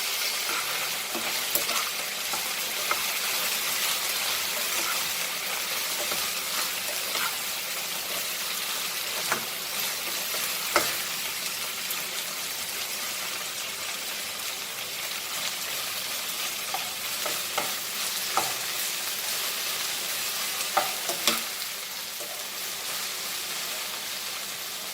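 Goan pork sausages with okra sizzle steadily in a pan while a spoon stirs them, adding scattered scrapes and clicks over the constant frying hiss.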